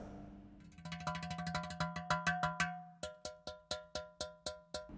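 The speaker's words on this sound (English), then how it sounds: "You can make different sounds by playing on the top as well as on the side." A Valter Percussion Aludu, a metal percussion instrument, is struck on the top and the side. The strikes come as a fast accelerating roll of ringing metallic tones, then slower, evenly spaced single hits, fairly quiet and alone.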